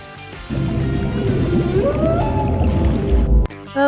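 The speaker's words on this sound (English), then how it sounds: "N for narwhal." A narwhal's underwater vocalization: a dense wash of clicks and bubbling squishy pulses with rising whistle-like tones, close and steady for about three seconds before cutting off abruptly.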